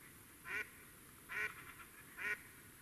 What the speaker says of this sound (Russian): Тут все озеро зашевелилось, они крякают